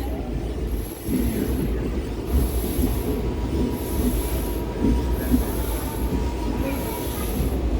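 The Meenakshi Express rumbles through Paramakudi railway station, its wheels squealing in repeated high-pitched whines over a steady low rolling clatter, with no talking.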